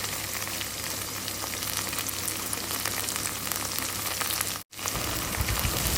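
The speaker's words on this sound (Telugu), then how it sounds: "ఇందులోనే కొంచెం ఇంగువ పొడిని కూడా చల్లుకుని వేయించుకోవాలి" Okra shallow-frying in a pan with a sprinkle of asafoetida powder, a dense, steady close-up sizzle and crackle throughout, broken by one brief cut near the end, with no talk.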